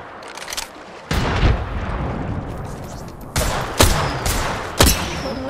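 A frag grenade goes off in Apex Legends amid a firefight, with loud booming blasts and sharp gunfire bursts repeating over several seconds against constant battle noise.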